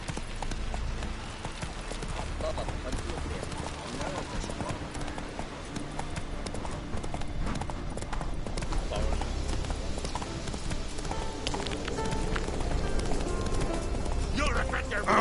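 Horse galloping in The Witcher 3 video game on the Skellige islands: steady, continuous hoofbeats at a fast clip, layered under a dense, busy game soundscape throughout.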